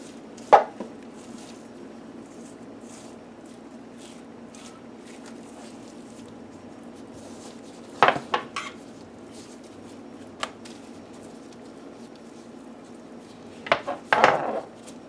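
Knife trimming the fat cap off a raw tri-tip on a cutting board, with a few scattered sharp cuts and board knocks against a quiet background and no talk.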